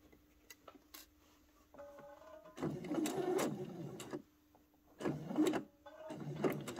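A sewing machine stitching the end of a fabric dart: short whirring bursts of needle motion separated by pauses with faint mechanical clicks, close and quiet.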